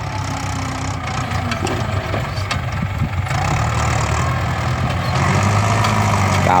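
A four-cylinder direct-injection diesel engine runs steadily at idle with a low, even rumble and a few faint clanks in the background.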